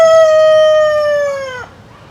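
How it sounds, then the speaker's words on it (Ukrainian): A single rooster crow rings out loud and close, one long drawn-out call that slides slightly lower before cutting off into quiet. "Тут півник в мене"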